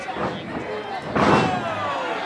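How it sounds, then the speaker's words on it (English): A wrestler is slammed down onto the ring mat at an independent pro wrestling show, a heavy thud rising over crowd noise and commentary. "Maurice Waltz slamming him down in the middle of the ropes, or middle of the ring rather."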